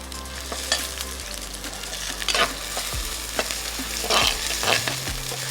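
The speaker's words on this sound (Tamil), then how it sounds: "இதை வந்து வெங்காயத்தை லைட்டாக வதக்கிக்கோங்க" Onions sizzle and crackle steadily in a hot pan, with occasional scraping and stirring clatter from a utensil, close by and fairly loud.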